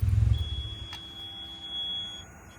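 A buzzer on Higgins sounds during a test, a steady thin high electronic tone holding for about two seconds after a brief low rumble of handling.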